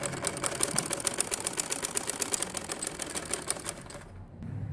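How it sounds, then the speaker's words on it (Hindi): Sewing machine stitching the front belt of a Patiala salwar, a rapid, even run of mechanical needle clatter at close range that stops abruptly near the end. "अब मैं इस बेल्ट की सिलाई करने लगी सामने वाली।"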